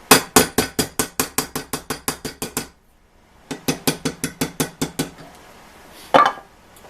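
A hammer flattens metal tabs on a 1925 Ford Model T transmission band in a fast, steady run of ringing blows, pauses, then taps again in a second series ending with one heavier knock.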